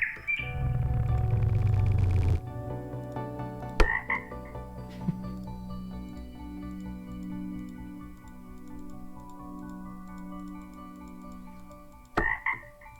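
A frog croaks in the video game Delete After Reading, with a loud, low rattling croak at the start followed by quieter tonal calls and a few sharp chirps over a soft ambient background.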